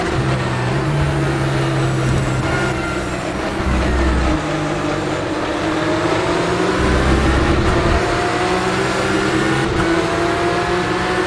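A Porsche Cup car in the rFactor2 racing game lapping Imola from the onboard view, its engine a loud, continuous drone that rises and falls in pitch through the gears, with no talking.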